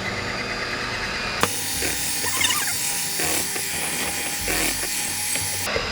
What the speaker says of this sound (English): So now I'm not going to turn the mixer off.